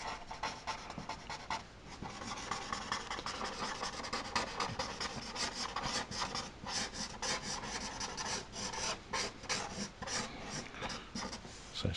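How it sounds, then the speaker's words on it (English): A chisel-tip marker sketches a demonic eel concept on paper, giving a steady, close rasping and rubbing that runs without a break for the whole stretch, with many quick strokes layered on top and no voices. "I think it's best if I just change for the chisel end of the marker just to get a bit more"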